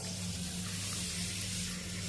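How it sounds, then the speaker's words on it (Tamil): Water pouring steadily into a bowl holding half a kilo of ragi (finger millet), a continuous close hiss and splash with no talk. "பாத்திரத்தில் இதை நல்லா தண்ணி ஊற்றிக்கிடுவோம்."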